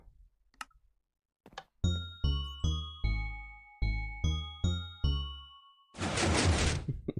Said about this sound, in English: Odd doorbell, like.